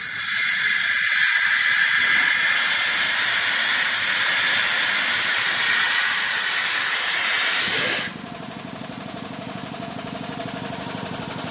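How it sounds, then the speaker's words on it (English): A Curtis Masterline CV96A 5 hp horizontal reciprocating air compressor lets out a loud, steady hiss of released air, then its motor kicks on with a lower, continuous rattling hum. "We're going to slowly release pressure to bring it down to 145, which will turn the compressor on."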